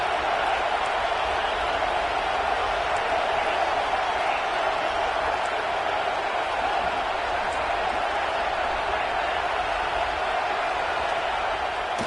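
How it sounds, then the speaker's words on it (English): Football stadium crowd at a Kent State vs LSU game cheering steadily for the defense in the red zone, a broad, continuous roar that holds at an even level throughout, with no distinct voices standing out. "The crowd getting behind this defense as they try to get a stop in the red zone."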